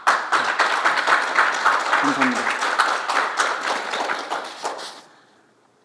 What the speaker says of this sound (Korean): 박수 한번 보내주시면 감사하겠습니다.